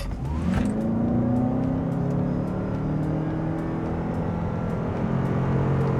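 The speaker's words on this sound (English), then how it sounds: "let's do actually a launch with this car" A 2025 Toyota RAV4 GR launches at full throttle, its engine roaring loudly and climbing steadily in pitch through the gears as the car pulls hard, with no talking over it.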